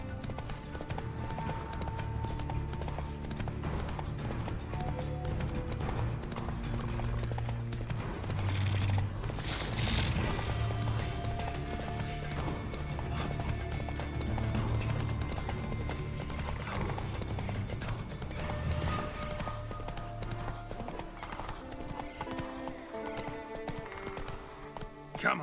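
Roach the horse gallops in The Witcher 3, a steady clip-clop of hooves running under game music and ambience throughout, with occasional snorts.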